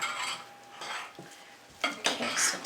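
Onion pudding batter being stirred into milk, a spoon scraping and clattering against the bowl in short bursts, close and fairly quiet with a brief louder stretch near the end.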